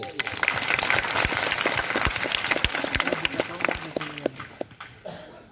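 Schoolchildren in a Children's Day quiz break into scattered applause for a correct answer, moderately loud at first and then thinning into a few separate claps before it stops.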